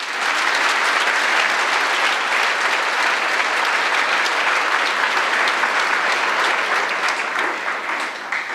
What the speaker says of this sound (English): Let us give him a mighty hand clap.